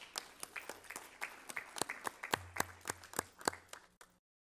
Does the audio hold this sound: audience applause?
yes